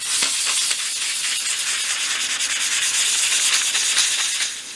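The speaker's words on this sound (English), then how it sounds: "prepare the surface by using a 500 grade sandpaper and sanding in small circular motions" 500-grade sandpaper rubs on wood pieces of a 1/12th scale dollhouse wardrobe in small, quick circular strokes, a close, steady scratchy hiss with a gentle rhythmic pulse.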